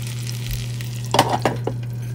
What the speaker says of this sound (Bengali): একটু এই চিজটাকে আমরা গরম গরম প্যাটির উপর দিয়ে দেবো যেন একটু মেল্টিং হয় চিজটা আর কি